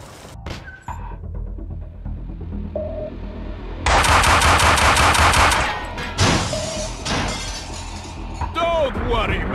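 Gunfire in the Max Payne video game, a burst of loud, sharp shots with breaking and shattering crashes, layered over ambient game sounds and music, with brief speech.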